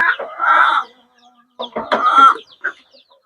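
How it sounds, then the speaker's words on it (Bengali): Pakistani breed chickens on a poultry farm cluck and squawk close by in a few loud bursts separated by short quiet gaps, with no voices heard. "রাশেদ ভাই এই মুরগিগুলো কিসের এটা ভাই এটা পাকিস্তানি"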